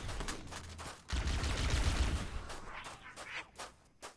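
Gunfire rattles in the shooter game Halo, a rapid volley of sharp shots followed by a heavier sustained burst and then scattered single cracks trailing off.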